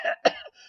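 An audiobook narrator voices a short imitated cough, one quick harsh burst after a brief breathy lead-in, close and dry with no other sound.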